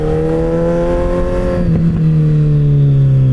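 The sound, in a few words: Suzuki Hayabusa motorcycle double exhaust revving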